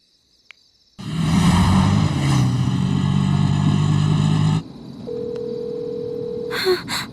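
A phone rings late at night, a loud sustained electronic ring that cuts off abruptly, followed by quieter background ambience with a single tone and a few brief clicks.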